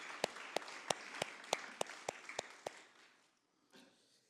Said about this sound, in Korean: 영광의 주님께 영광의 박수를 올려드리겠습니다.